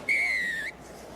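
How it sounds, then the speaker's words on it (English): A referee's whistle ends a rugby test match between the All Blacks and England, one clear, sustained blast of about half a second that cuts off sharply and rises above the faint crowd noise behind it. "that's the referee's whistle for no side"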